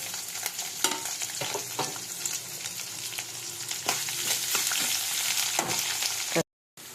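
Urad dal, chana dal, mustard seeds and cumin seeds sizzle loudly and steadily in hot oil close by, with intermittent scraping clicks from stirring, and the sound cuts out briefly near the end.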